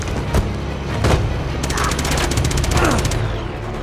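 Rapid M4 rifle fire in Uncharted 2, a fast run of sharp bursts after a couple of heavier booms, loud and close over a busy game battle.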